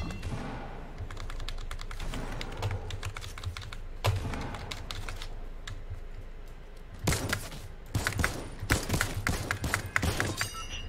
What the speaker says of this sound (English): I hear you clicking your keys.